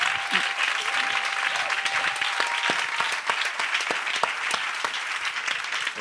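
Worshippers in a church clap loudly and steadily to acclaim the Lord, crisp individual claps standing out from a continuous crowd applause, with scattered voices calling out.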